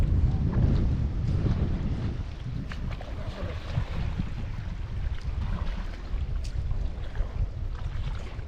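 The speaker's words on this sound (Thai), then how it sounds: "ตอนนี้ลมแรงมากๆเลย" Strong wind buffets the microphone beside the Kaeng Krachan reservoir during a camping and fishing trip, a steady loud roar with gusty surges throughout and no talk.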